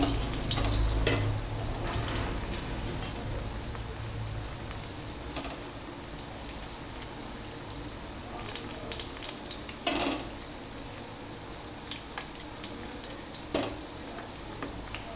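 Food fries in a pan over a very low flame until it turns reddish, giving a steady, close sizzle with occasional scraping and clinks from stirring; no voices.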